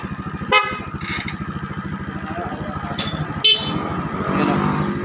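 Dual horn on a Yamaha Aerox 155 scooter, fired with a touch sensor: two short sharp honks about three seconds apart over a buzzing motor drone, with voices nearby.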